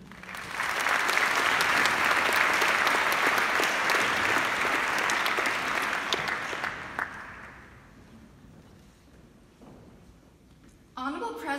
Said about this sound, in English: please give a warm round of applause to Annika